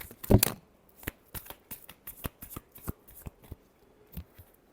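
Tarot cards being shuffled by hand, a quick riffle burst followed by a steady series of crisp, close flicks and slaps spread over a few seconds, with no voice.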